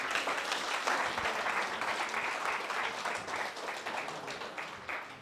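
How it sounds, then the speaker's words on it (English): Steady, sustained applause from a seminar audience fills the room, dense and even throughout without pauses, gradually easing slightly toward the end. "shall we give an applause again?"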